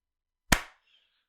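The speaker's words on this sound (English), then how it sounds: "I'll go a clap." One sharp hand clap sounds alone in near silence, a crisp close crack with a short fading tail.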